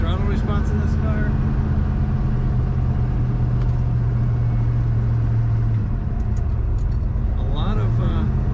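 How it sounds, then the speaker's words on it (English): A 1966 Chevrolet Corvette convertible with a 427 engine idles with a steady low rumble close by, its throttle blipped briefly, while someone talks over it throughout. "Very good throttle response in this car."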